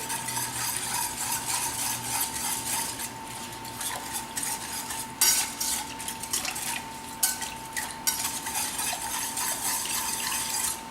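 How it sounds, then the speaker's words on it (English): Lemon juice stirred into a pasta mixture with a utensil against a pot or bowl, producing a steady close scraping and swishing with occasional louder clinks and no voices. "And stir that real good."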